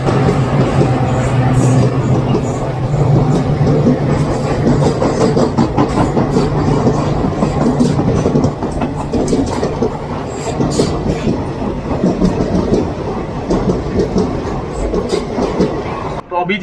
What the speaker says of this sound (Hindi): अभी जिस ट्रेन ने अपन को क्रॉस किया वो थी देवगढ़ अगरतला एक्सप्रेस।